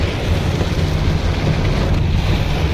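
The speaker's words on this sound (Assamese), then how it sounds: "এনেকুৱা খাতাৰনাক বৰষুণ পৰিছে" A dense, constant roar of heavy rain mixed with vehicle rumble and wind noise, loud and unbroken throughout, while driving on a road in Kuwait.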